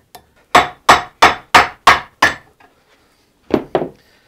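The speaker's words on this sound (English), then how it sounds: "we will tap it in. Start with our small hammer and then" A small hammer tapping a steel axe head down onto a new wooden handle: six evenly spaced sharp knocks, a pause, then two more quick blows, close and loud with no talking.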